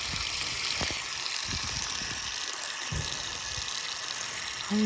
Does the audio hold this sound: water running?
yes